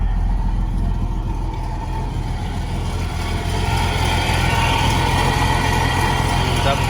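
Nissan Patrol engine running at a steady idle, a loud continuous low rumble with no break throughout.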